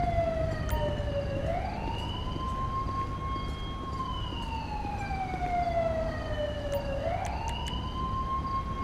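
An ambulance siren in GTA 5 with the LSPDFR mod wails in long, slow rising and falling sweeps over a steady road rumble, loud and continuous.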